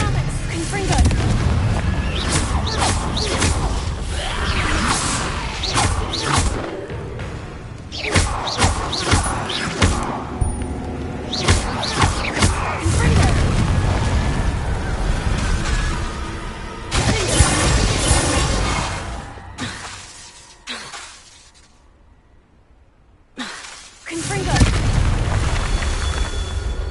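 Repeated blasting-spell explosions in the video game Hogwarts Legacy, loud booming and crashing bursts over a dense game soundtrack, with a brief quieter lull near the end before another blast.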